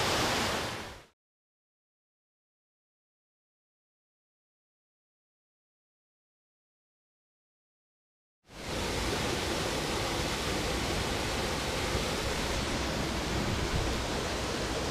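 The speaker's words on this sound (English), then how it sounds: "So this is the third fall." Waterfall on MacInnis Brook, Cape Breton Island, a steady broadband rush of falling water, briefly at first, then a long gap of silence before the roar returns loud and continuous.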